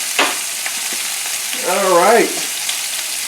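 Pork loin frying in a pan: steady close sizzle throughout, with a short spoken remark partway through.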